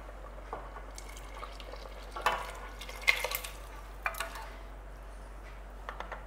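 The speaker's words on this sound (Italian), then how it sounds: "verso le cozze che sono state sgusciate con il liquido" Shelled mussels and their filtered liquid are poured into a pot of cooked beans for pasta e fagioli con cozze, giving faint splashes, drips and liquid stirring with a few brief louder bursts over a quiet background.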